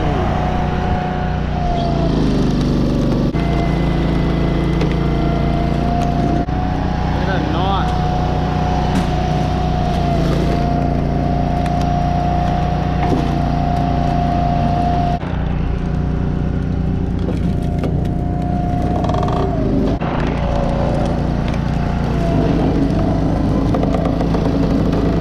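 A Timberwolf Alpha 6 log splitter's engine runs loud and close for the whole stretch, a steady droning rumble with small shifts in load while firewood is split.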